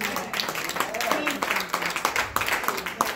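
Church congregation clapping and praising, a dense wash of handclaps mixed with overlapping voices and shouts filling the room throughout.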